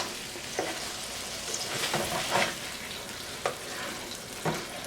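Hamburger steaks fry in a covered pan, giving a steady close sizzle broken by a few sharper pops and spatters, with no talking.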